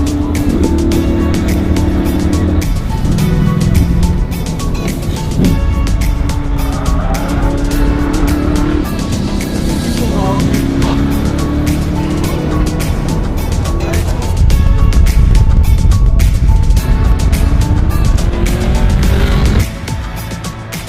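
A loud De Tomaso Pantera engine roars and revs at high speed, with tire squeal, the drone continuous and close throughout.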